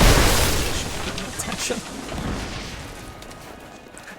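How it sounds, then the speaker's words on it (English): Explosions in the video game Rise of the Tomb Raider: a loud booming blast at the start that rumbles and decays, followed by further softer detonations fading away, with a brief spoken word over it. "But hey, more explosions."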